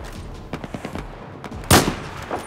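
Gunfire in the video game Battlefield 4, a scattered string of close sharp shots with one louder burst near the end, no talking over it.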